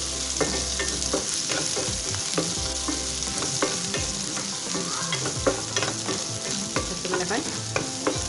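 Onions frying in hot tempering oil with mustard seeds and urad dal for ragi dosa, a constant close sizzle punctuated by repeated scraping and clinking stirs, no speech.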